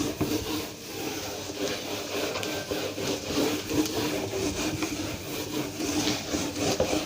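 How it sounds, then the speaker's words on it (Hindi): A duster or cloth rubs writing off a classroom board with a continuous scratchy scraping that runs for several seconds, steady and fairly close, with no talking. "रब कर दूं मैं"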